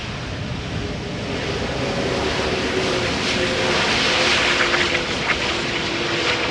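A fixed-wing airliner landing at Amsterdam Schiphol Airport sends a loud, continuous broadband engine roar across the whole stretch, swelling slightly, with a faint whine running underneath.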